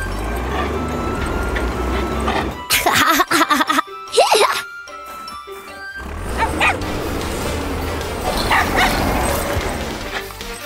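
Cartoon dog barking and yipping in an animated truck-and-animal show, a burst of loud barks in the middle over busy background music and effects, with cartoon voices talking around it.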